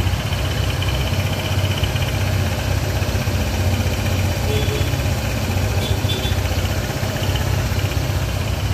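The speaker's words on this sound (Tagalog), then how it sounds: "ikumpara natin yung tunog ng makina bago natin simulan gawin" Honda ADV 160 scooter engine idling at cold start, a loud, steady, fast mechanical chatter with a rattling edge that runs without a break for the whole stretch.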